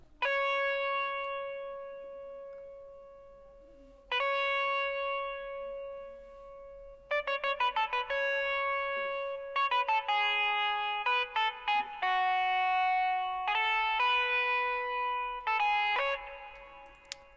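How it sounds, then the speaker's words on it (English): Guitar run through a radio-style EQ preset, fuzz distortion and reverb, playing a sparse, bright melody of sustained ringing notes with echoing tails, phrases entering in bursts and growing busier toward the end, with no voices. "for that guitar, what I have is an EQ with this preset. I believe it's the radio preset, and I have a fuzz distortion with this preset"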